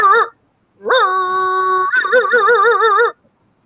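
A voice imitates a dog, giving a short yelp followed by a sustained, wavering howl-like bark, loud and close with no other speech.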